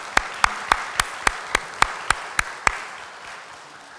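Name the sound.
church congregation applauding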